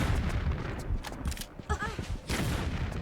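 Grenades fired in Tomb Raider III at a crash site with raptors, a rapid series of deep booming blasts and rumbling impacts, loud and dense throughout, with a voice talking over them.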